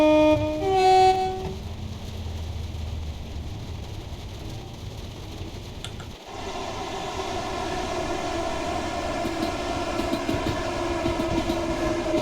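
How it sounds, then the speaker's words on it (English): Two trains pass each other in the Train Sim World 2 video game on a London commuter route, with a horn toot early on, then a steady loud rolling rumble and clanking of cars that carries through to the end. "Got the nice clang of the trains."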